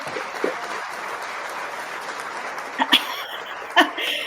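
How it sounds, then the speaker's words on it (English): Light applause on a Zoom call at the close of a SydCSS meetup, a soft, distant patter of clapping that carries on steadily. Near its end a few louder close sounds and a brief laugh cut in. "Applause, please"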